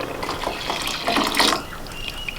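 Cashews and raisins being washed under running water in a home kitchen, a close splashing trickle with irregular bursts as the nuts are rinsed, no talking.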